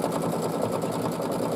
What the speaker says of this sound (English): So it's going to sew out the second half of this design,